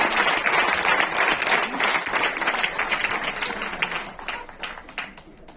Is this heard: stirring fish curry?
no